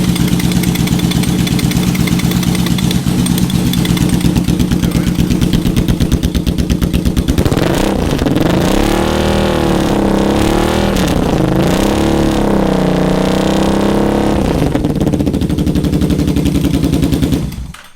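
A Yamaha Vmax motorcycle engine idles loudly and steadily up close, then is revved repeatedly in rising and falling surges for the second half before cutting off at the end.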